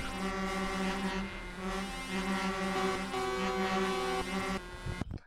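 Truck air horns blaring together from a convoy in Euro Truck Simulator, a loud sustained overlapping blast of several tones that holds for about five seconds before cutting off abruptly, with no talk.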